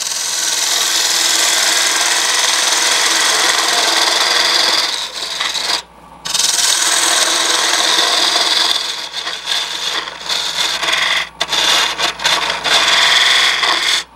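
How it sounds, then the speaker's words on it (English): A wood lathe turning a piece of poplar gives a steady, loud rasping scrape as the tool cuts, with a brief pause midway and then choppier, interrupted cutting toward the end. "This is a piece of poplar, so it's not real good wood to be turning this on."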